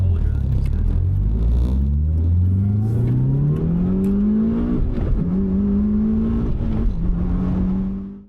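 Mitsubishi Lancer Evo V GSR accelerating hard through the gears, engine note climbing steadily in pitch with a brief dip at each shift, loud and close throughout with no talking.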